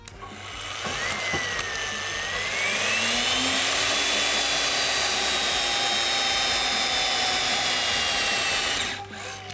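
A power tool drives a structural bolt fitted with a direct tension indicator, a loud close whine that winds up and holds steady for several seconds, then cuts off, with no talk.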